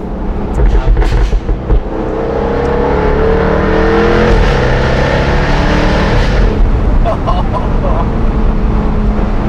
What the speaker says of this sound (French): Alors le moteur, le V8, c'est un V8 à compresseur.